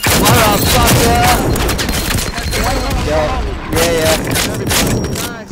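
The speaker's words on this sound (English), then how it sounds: "Yeah, shotgun." Shotgun fire rings out in the video game Firewall Zero Hour, several loud, close blasts in quick bursts with brief pauses between, with players' voices faintly mixed in.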